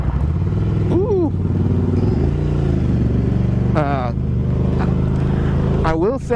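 A Ducati Scrambler motorcycle engine drones steadily throughout while a voice interjects several times with rising swooping sounds that imitate the gear changes.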